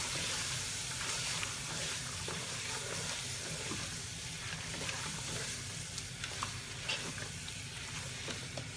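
Ground spices for a chicken korma curry sizzle and hiss steadily in a hot pan, a continuous close frying crackle with soft stirring and no talk.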